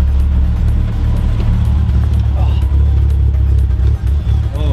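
A Mitsubishi Lancer Evolution engine with a newly installed twin-disc clutch roars with a steady deep rumble, revving throughout at close range while someone talks over it.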